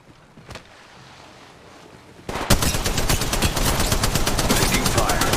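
Rapid gunfire in the mobile shooter Apex Legends Mobile erupts after a quieter stretch with one earlier shot, then continues as loud, dense automatic bursts.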